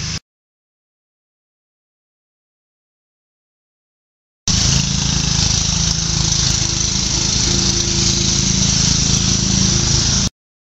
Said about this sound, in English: Somebody's mowing.